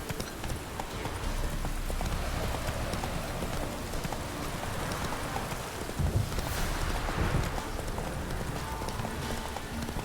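A horse gallops in The Witcher 3, its hooves pounding out a steady, fast rhythm that stays loud and close through the whole stretch, with a faint patter like rain underneath.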